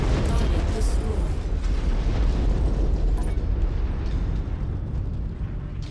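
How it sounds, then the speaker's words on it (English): Cannon fire and explosions from giant mechs in MechWarrior 5: Mercenaries, a dense, continuous rumbling roar of heavy blasts that stays loud throughout, with voices talking over the battle. "I just heard a cannon go off"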